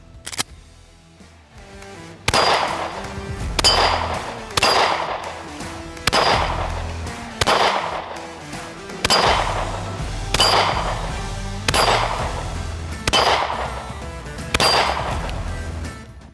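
A Springfield Hellcat pistol fires about ten loud, sharp shots at a steady pace, each crack followed by a short ringing decay.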